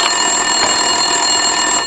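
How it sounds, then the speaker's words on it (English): A phone rings continuously in the Max Payne 2 video game, a bright, steady electronic trill that sounds close and loud, with no talk. "Winterson's phone was ringing."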